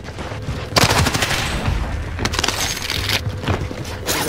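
Gunfire in the Call of Duty Vanguard Warzone video game, dense rapid bursts of shots with sharp cracks that rise and fall across a few seconds, loud and close.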